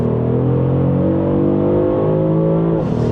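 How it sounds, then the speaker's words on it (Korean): A 2026 Porsche Panamera 4 e-Hybrid in Sport Plus mode on kickdown, its engine note blended with an electric sound generator, pulls with a loud, steady rising exhaust drone heard close from inside for about three seconds. "스포츠 플러스 모드에서 이 배기음을 들어보면은요"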